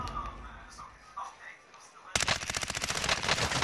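Rapid automatic gunfire erupts in a shooter video game match against bots: quiet chatter and faint game sounds first, then dense, loud bursts of shots fill the rest.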